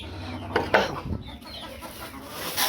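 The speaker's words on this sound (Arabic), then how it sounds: "عدد الفراخ عندي هم 4 فرخات بيبيضوا اهو" A backyard flock of four laying hens gives a few short, close clucks and squawks, scattered irregularly across a brief stretch among light rustling.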